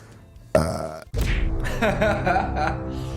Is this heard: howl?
no